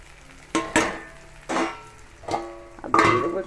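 Raw chickpeas frying with ginger-garlic paste and spices in a pan, heard as four separate bursts of spoon scraping and sizzling against the metal, with brief quiet gaps between strokes.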